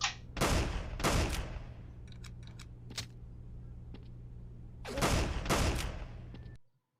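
A shotgun fires at zombies in a video game, about four sharp, loud blasts in two close pairs with short echoing tails, separated by quieter clicks and a low steady hum.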